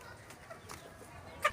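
A young rooster in a breeding pen gives a brief, faint cluck near the end, over quiet background noise.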